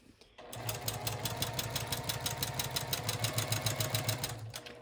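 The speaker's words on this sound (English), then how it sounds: "I have got a walking foot on my sewing machine" A sewing machine fitted with a walking foot stitches through several fabric layers around chipboard, a steady fast mechanical chatter starting after a brief pause and running evenly to the end, close and clear.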